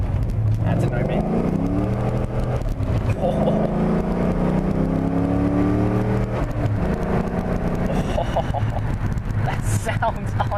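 A C6 Corvette's V8 engine drones and rises steadily from inside the car while driving at road speed, a continuous loud rumble with a person talking over it.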